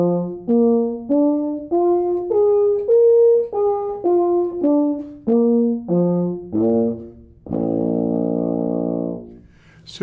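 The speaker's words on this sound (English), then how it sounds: "So if I were to play for you a demonstration of the overtone series with no valves, like a bugle, it would sound like this." A euphonium played without valves, bugle-style, steps up and down its overtone series in clear separate slurred notes, then ends on a long sustained tone, solo and close.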